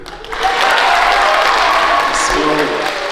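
A live audience breaks into loud, sustained applause and cheering that swells quickly and holds steady, filling the room with clapping and whoops.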